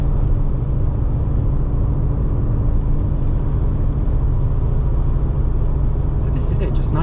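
A 2012 Volkswagen GTI MK6 cruising at about 60 on a country road on all-season tyres, a steady loud low engine and road rumble from inside the cabin with a voice speaking over it.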